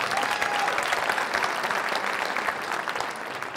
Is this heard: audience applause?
yes